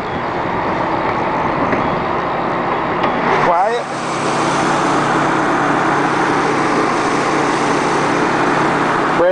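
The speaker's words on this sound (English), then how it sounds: "Has a four-cylinder engine." A Subaru Legacy's four-cylinder engine runs at a steady idle, close and continuous, with a brief dip and shift partway through and someone talking over it.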